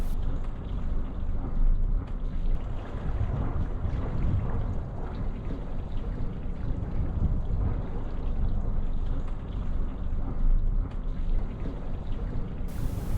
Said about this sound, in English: Both engine reverse with more power to the port engine.